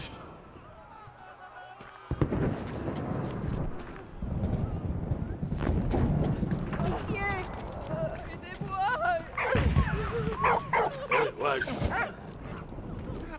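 Dog barks and yips in a Rome-set video game, a scene at a Roman cathedral, repeating in short bursts amid game music and effects, with someone talking over them throughout.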